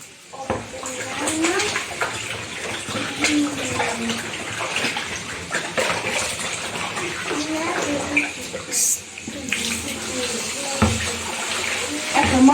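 Duck meat being rinsed with salt under a running kitchen tap, water gushing and splashing steadily with handling clatter, while someone talks throughout.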